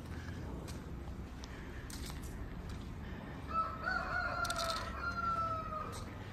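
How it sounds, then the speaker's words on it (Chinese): A rooster crows once from somewhere below a hillside near a Dong village drum tower, a drawn-out call that is somewhat distant over soft outdoor ambience and faint footsteps. "这底下有鸡叫"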